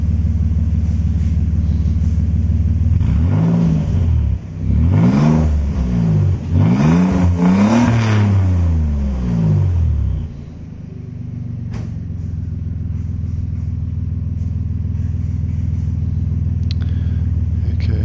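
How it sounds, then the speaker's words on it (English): A Nissan Stagea NM35 with a rebuilt VQ25DET engine revs loudly several times in quick succession with rising and falling pitch, then settles into a steady low idle rumble. "Bit of revving of the car as requested in previous videos."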